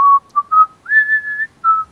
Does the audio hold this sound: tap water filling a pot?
no